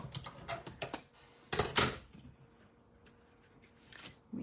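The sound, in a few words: card being run through a cut and emboss machine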